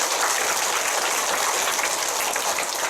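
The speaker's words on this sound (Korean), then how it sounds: "큰 박수로 맞이해 주시기 바랍니다" Applause from an audience of older people welcoming the chairman of a medical foundation to a lecture hall, a dense, even wash of many hands clapping, loud and steady with no voices.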